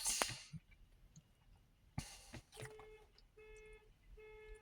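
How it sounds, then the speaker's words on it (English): Faint, distant car alarm repeating a string of short, evenly spaced electronic tones, with scattered clicks and street noise ahead of it. "Somebody's alarm's going off."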